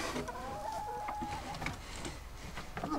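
Hens clucking nearby in short, uneven bursts, with scattered scratches and rustling around them.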